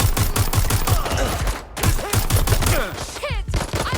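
Rapid bursts of automatic gunfire in Watch Dogs: Legion, loud and close, with sharp repeated shots in quick rhythm broken by a brief pause, then more volleys and a few whooshing, sweeping effects.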